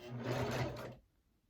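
A domestic sewing machine fitted with a Teflon foot stitches a bowler bag in one steady close burst of about a second, its motor hum and needle chatter cutting off abruptly into near silence.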